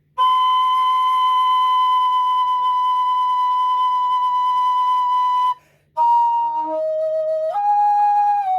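A low D tin whistle holds a long steady note, pauses briefly, then jumps unstably into the high octave, with breaking tones that waver between pitches.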